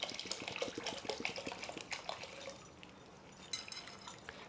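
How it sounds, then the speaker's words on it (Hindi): Chopped cauliflower being washed by hand in a bowl of water, with close splashing and sloshing that comes in irregular bursts and then settles toward a softer trickle near the end. "अभी भी हम 2 से 3 बार अच्छी तरह से इसे पानी से धो लेंगे ताकि फ्लावर हमारा अच्छे"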